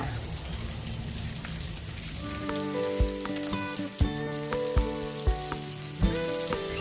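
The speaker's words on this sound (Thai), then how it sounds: "ทอดไก่ให้สุกเป็นสีเหลืองทองทั้งสองด้านค่ะ" Chicken pieces frying in hot oil in a pan for orange chicken, a continuous crackling sizzle with scattered pops and a few louder knocks or clinks of a utensil against the pan, no one speaking.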